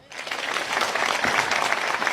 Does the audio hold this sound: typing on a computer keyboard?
no